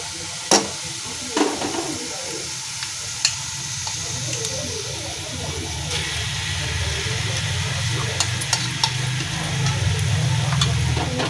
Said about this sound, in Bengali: এবার পনিরটা দিয়ে দিচ্ছি।